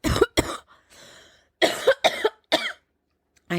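A person coughs several times in short, harsh bursts, close and loud, with brief pauses and a quieter breathy stretch between the groups.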